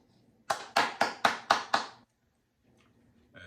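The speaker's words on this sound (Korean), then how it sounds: "우선 제가 박수를 좀 치겠습니다." Six brisk hand claps in quick, even succession, loud and close in a quiet room, followed by silence and a little faint movement.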